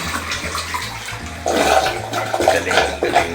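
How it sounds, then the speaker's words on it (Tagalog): Water trickles quietly, then a toilet flush surges loudly and close in a restroom at Taiwan International Airport, gurgling and rushing for a couple of seconds. "Tapos ito yung flush na."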